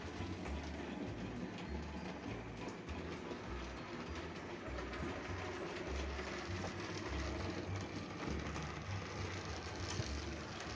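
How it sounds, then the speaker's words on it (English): A Stratford B12 model locomotive pulling suburban coaches runs steadily with a continuous mechanical chuffing and clicking rumble, fairly quiet and unbroken throughout, with no talking. "With realistic chuff noise."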